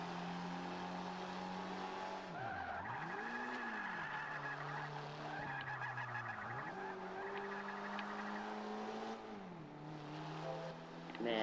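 A 1998 Talon TSi Turbo in Forza 5 drifts, its turbo engine droning and swooping in pitch as revs rise and fall, with tires squealing and skidding through corners.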